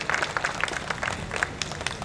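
Applause from an audience for Irshad Siddique at a community gathering in a jamaat hall, a dense crackle of many hands clapping steadily for a couple of seconds without a break.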